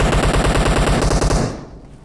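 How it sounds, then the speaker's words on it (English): Automatic gunfire in PUBG Mobile, a rapid, loud, evenly spaced burst of shots that stops abruptly and leaves a short fading tail. "he's shooting me"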